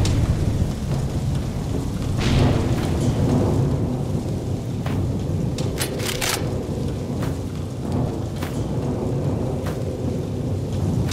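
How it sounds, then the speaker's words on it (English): Steady heavy rain pours in the video game NecroVisioN, with thunder rumbling low beneath it and sharp crackles and cracks breaking through now and then, continuous and loud throughout with no one speaking. "Looks like someone up there is crying over our fate. In England, we call it rain."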